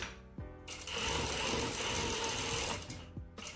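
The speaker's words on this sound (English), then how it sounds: "And we're going to do another back tack." A sewing machine stitches a back tack on an inseam pocket, starting with a short mechanical burst, then running in a loud, close, rapid whirr, then stopping.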